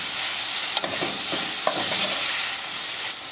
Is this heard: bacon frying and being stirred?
yes